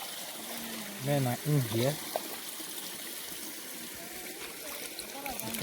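A clear natural stream flows where people wash clothes, a steady soft trickle and rush running underneath a voice speaking briefly over it.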